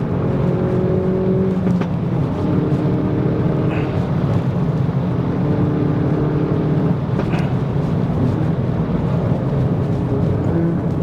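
A Hyundai i30N Performance hatchback laps the Queensland Raceway National Circuit, its engine droning loud and steady from inside the cabin with gear changes and rising and falling revs, and no talk.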